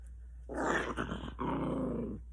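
A dog growls low and close in two rumbling bursts over a faint steady hum, with no speech.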